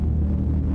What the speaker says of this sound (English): That's what it sounds like when you rev it.